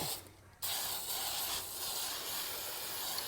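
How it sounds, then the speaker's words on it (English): A short burst of spray, then a longer steady hiss of an aerosol can sprayed close up onto the parts of a Honda lawn mower, with no voices. "Give everything a light spray."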